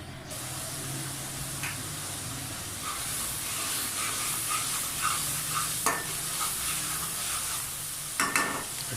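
Marinated meat and masala for chicken achar gosht sizzle and hiss in a pot while being stirred, a steady close frying sound with scattered scraping stir strokes and no talk.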